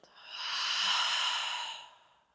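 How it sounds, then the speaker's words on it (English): One long, audible exhale through the mouth as a clearing breath in a vinyasa yoga session, a soft breathy rush that swells and fades over about two seconds, close and alone. "Take a clearing breath through the mouth."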